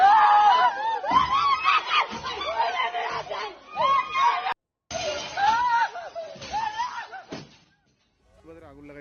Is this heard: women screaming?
yes